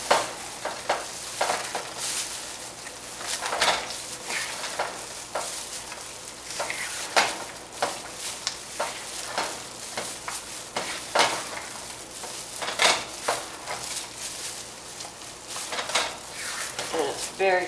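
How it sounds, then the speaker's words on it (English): A spoon works through a thick fudge mixture with cashews in a pan, giving repeated scraping and clacking stirs at an uneven rhythm, close and moderately loud. "Give it a good stir."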